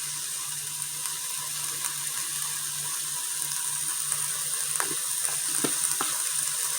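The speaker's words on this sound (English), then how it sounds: "I've got my crock pot on sear" Meat sears in an Instant Pot on the sear setting with chili powder added, giving a steady, fairly quiet sizzle throughout, joined near the end by a few brief scraping or stirring clicks.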